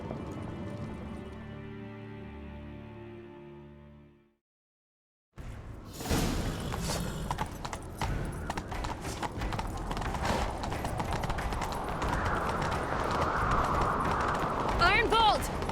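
Galloping horse hooves in The Witcher 3: Wild Hunt pound steadily and close after a brief silence, building in intensity with rushing wind and a voice talking over the ride.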